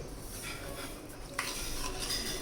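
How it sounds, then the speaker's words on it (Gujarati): Powdered sugar and curd are mixed in a bowl, a quiet continuous rubbing and scraping of a spoon with one slightly sharper scrape partway through. "હવે આપણે એને મિક્સ કરી દઈશું"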